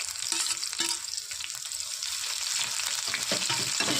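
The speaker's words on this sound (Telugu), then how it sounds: "జీలకర్ర కూడా మంచిగా ఫ్రై అవుతుంది. పచ్చిమిర్చి అయితే వేసుకుంటున్నాను." Cumin seeds and finely chopped green chilies sizzle steadily in hot oil in a pan, a continuous close frying crackle with occasional stirring clicks throughout.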